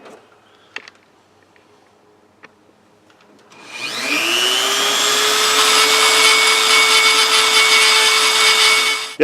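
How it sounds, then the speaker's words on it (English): Dry-sounding hiss after a near-silent start: a steady loud whirring friction noise with a rising tone settles in from about four seconds and runs on evenly, like powered abrasive work on a Dinky Avro die-cast model being smoothed with wet-and-dry paper. "I'm doing a little wet and dry now to get that nice smooth feel here"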